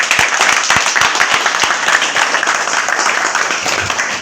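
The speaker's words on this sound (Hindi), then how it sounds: "अगर है तो जोर से तालियां बजाएं।" A crowd at a Rotary club installation ceremony claps loudly and steadily, a dense, close burst of applause with individual sharp claps standing out throughout.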